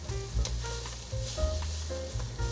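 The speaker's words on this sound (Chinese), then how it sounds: "把调味料炒均匀" Seasonings sizzle in oil as they are stir-fried in a pan for a vegan taro dish, a steady close hiss with intermittent scraping and stirring strokes throughout.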